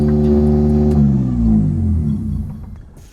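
A restored car engine runs while the car drives, idling high at about 2,000 RPM, a loud, steady low rumble that dips and swells slightly before fading away.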